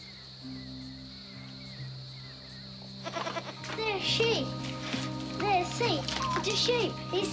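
A few wavering bleats from a sick sheep rise over a low steady hum, close by, with a voice speaking just before and between them.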